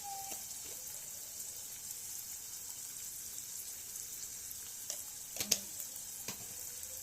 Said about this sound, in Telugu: ఇదమ్మా ఉల్లిపాయలు వేగుతున్నాయి